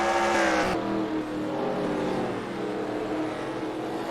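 Race cars roaring around the Devils Bowl track in Texas, a loud engine blare that drops sharply as a car passes, then a steady pack rumble, with no talk.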